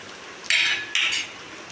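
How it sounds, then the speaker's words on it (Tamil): A ladle stirs fried urad dal in a pan, giving two bright metallic scraping sweeps in quick succession, close and fairly loud against a quiet background. "நல்லா கிண்டிக்கலாம் கரண்டி வச்சு"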